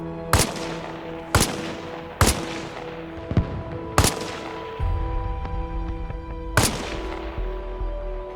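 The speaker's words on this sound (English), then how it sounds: "There's somebody shooting down again." Sharp, loud gunshots in the video game Arma Reforger, five separate cracks spaced roughly a second or two apart, each trailing off in a long echoing tail across open terrain.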